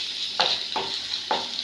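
Sliced onions sizzle steadily in a hot pan while being cooked for fish curry, with three distinct scraping stirs of a spoon cutting through the constant frying hiss.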